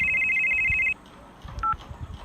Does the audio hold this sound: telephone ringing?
yes